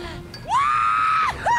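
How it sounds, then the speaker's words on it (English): A character in the Netflix live-action One Piece yells from up high, a long sustained, strained scream that holds steady before breaking off and starting again, loud and alone over faint background noise. "He's just up there screaming."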